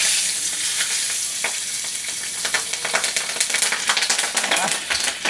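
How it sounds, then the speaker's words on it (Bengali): Black cumin seeds sizzle as a tempering in hot oil for a vegetarian taro-leaf dish, a close, steady frying hiss that breaks into denser spitting crackles as it continues. "তো এখন এতে দিয়ে দেবো ফোড়ন। তো আমরা কালো জিরে দিই"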